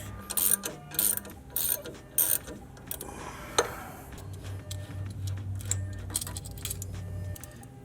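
A wrench loosens a corroded sway bar end link nut on a 2014-2018 GM Silverado or Sierra truck. Close ratcheting clicks come in several quick bursts, then give way to a lower mechanical hum.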